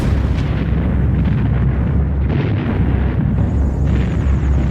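Heavy artillery shells exploding during a wartime bombardment of an airfield on Guadalcanal, a dense, continuous roar of overlapping booms and rumbling blasts, loud and sustained throughout.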